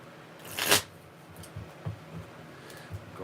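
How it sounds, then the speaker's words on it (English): A deck of trading cards riffle-shuffled once in a quick, crisp burst, followed by faint taps and soft handling clicks as the stack is squared up, close and fairly quiet with no talking. "Going to shuffle that together."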